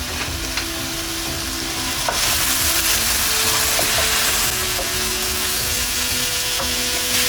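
Sausage sizzles steadily in a hot pan as it is broken up and stirred, a dense, continuous frying hiss with occasional scraping taps of the utensil.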